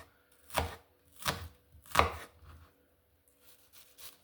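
A knife cuts chicken fillet into small cubes on a cutting board: three distinct, crisp chops about two thirds of a second apart, then softer, quieter taps trailing off, close and fairly faint, with no talking.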